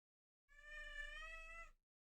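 A pet cat named Camus lets out a single drawn-out, tonal yowl lasting over a second, clear and fairly close, with nothing else around it.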